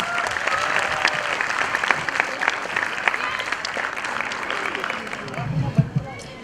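Dense, lively applause from an audience at a kindergarten annual day after a children's performance, sustained clapping with scattered sharper claps and crowd chatter, a voice and some bumping noises near the end.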